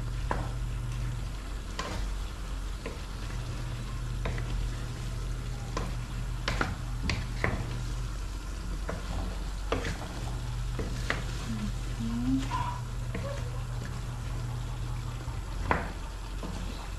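Chicken pastel with cream being stirred in a pan, a steady soft sizzle and scraping under occasional spoon taps against the pan, no talking.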